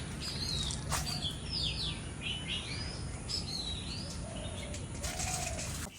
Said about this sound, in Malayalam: ഇപ്പൊ നമ്മൾ മിണ്ടാണ്ടിരുന്ന കിളികളുടെ ഒച്ചേക്കാം